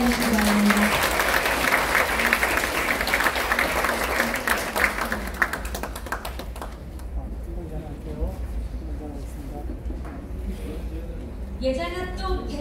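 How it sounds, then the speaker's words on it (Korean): An audience at a plaque presentation ceremony bursts into dense, sustained applause for several seconds, which then fades as an announcer speaks over a microphone. "뜨거운 박수로 맞아주시기 바랍니다"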